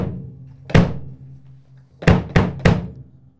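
Kick drum with a muffled resonant head and absorption inside the shell, four dull thumps, one single hit followed by a quick trio, short and boomy.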